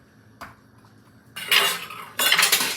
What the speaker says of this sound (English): Okay, stir that in.